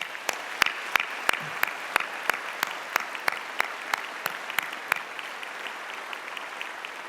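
Broad audience applause at a university convocation, a steady bed of many hands clapping with a series of sharp, distinct claps standing out near the front in a loose rhythm, fading toward the end.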